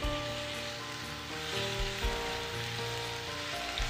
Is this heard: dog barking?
no